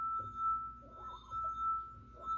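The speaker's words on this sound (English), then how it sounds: "I'm setting up resonance in the glass molecules to get the sound." A stemware wine glass sings with a steady, pure ringing tone, sustained evenly and fairly quiet throughout, with soft rubbing and room noise swelling beneath it.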